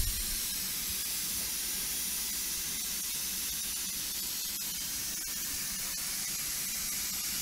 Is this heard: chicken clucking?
no